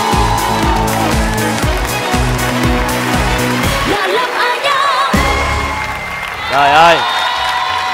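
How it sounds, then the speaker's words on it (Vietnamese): A stage audience claps and cheers for a mystery guest, the applause swelling over music that breaks off midway, with a voice exclaiming near the end. "Chúng ta vỗ tay cho nhân vật bí ẩn số 2 ngày hôm nay."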